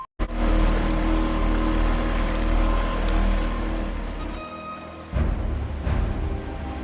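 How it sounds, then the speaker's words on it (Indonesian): A boat motors across a lake toward a small island, its engine droning steadily and close with water rushing along the hull, then dropping away briefly before a fresh surge of engine and splashing. "Di sana para kopet ini menyewa sebuah perahu milik si Nolan."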